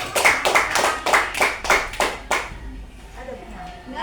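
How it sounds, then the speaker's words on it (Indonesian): A small group claps for everyone at an Indonesian business gathering, a few bursts of quick close hand claps over about two and a half seconds that then fade out, leaving quiet room tone with faint murmuring. "tepuk tangan dulu dong buat kita semua"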